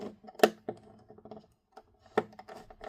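A part inside a 27-inch Late 2012 iMac A1419 is twisted backwards until it clicks into place, giving two sharp close clicks about two seconds apart among softer handling taps, with no talking.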